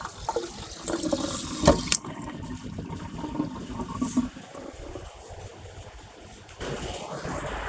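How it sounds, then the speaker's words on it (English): A kitchen sink tap runs steadily, its water sounding muffled and hissing for several seconds before the flow changes near the end, with a few faint clinks along the way. "That was the sink."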